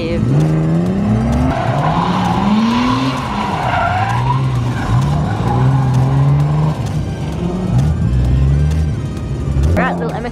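An MX-5 drifting at a driving event, its engine droning loud and close while tires squeal continuously through the slide and transitions, with people talking over the noise.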